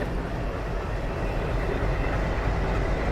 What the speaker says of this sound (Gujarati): આવી ગઈ છે અમારી ટ્રેન.